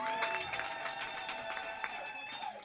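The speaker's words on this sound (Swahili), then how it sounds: "Wapigie makofi tena." Church congregation clapping hands during a lively service, with dense rhythmic clapping over a sustained bed of music and voices at moderate volume.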